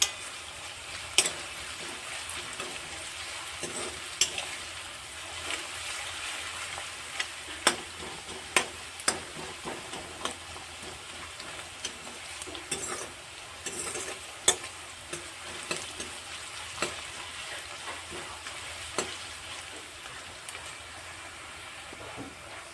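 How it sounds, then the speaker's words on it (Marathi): Chopped onions fry in oil in a pan until golden for a Kolhapuri chicken masala, giving a soft steady sizzle broken by occasional clicks and scrapes of a stirring spoon. "एकदम असा सोनेरी रंगाचा होईपर्यंत आपल्याला याला तेलामध्ये फ्राय करायचं आहे"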